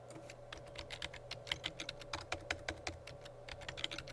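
Rapid, irregular typing on a computer keyboard, with crisp close key clicks in quick bursts over a faint steady hum and no speech.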